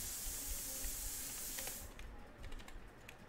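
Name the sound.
typing on a computer keyboard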